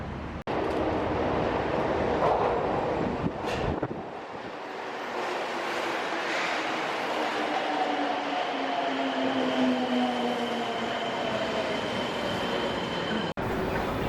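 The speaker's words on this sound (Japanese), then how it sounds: "天神駅から地下鉄空港線に乗って福岡" Fukuoka subway Airport Line train ride from Tenjin, a steady loud rumble of the carriage running through the tunnel, with whining tones rising and falling as it moves, plus a brief thump near the start and at the end.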